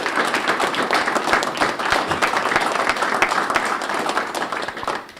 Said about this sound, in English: I would just offer a round of applause for these two gentlemen